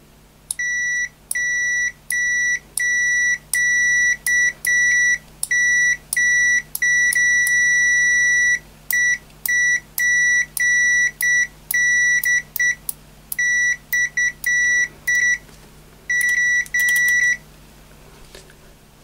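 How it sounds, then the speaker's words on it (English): A Zotek ZT-5566ES multimeter beeps during a continuity test, giving a long run of loud, clear tonal beeps of uneven length with short gaps, close and alone. "Continuity test."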